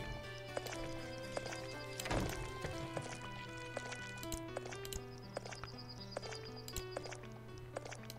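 Horses clip-clop along in the Hearthlands village-building game, their hoof steps scattered over a steady game music bed, with a brief louder burst near the middle and no talking.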